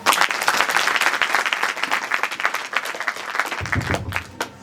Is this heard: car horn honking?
no